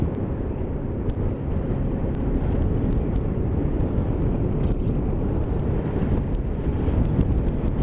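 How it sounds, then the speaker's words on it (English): Heavy wind buffets the microphone during a winter ride on an Xciting 500 scooter, a continuous low roar, gusting and rumbling unevenly with no voices heard. "It is windy today"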